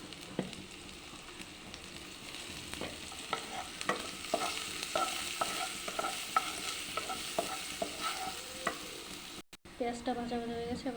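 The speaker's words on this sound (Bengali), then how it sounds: "পেঁয়াজটা ভাজা ভাজা হয়ে গেছে" Onions fry with turmeric in a pan, sizzling steadily under repeated close scrapes and taps of a stirring spoon, with a brief clatter near the end and no one talking.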